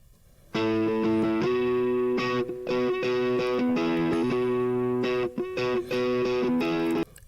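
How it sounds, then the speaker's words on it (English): A distorted electric guitar, run through effects, plays sustained chords in a steady series of strums with short gaps between them, loud and close and alone, with no noise bed under it. "Now let's play the electric guitar without the pink noise"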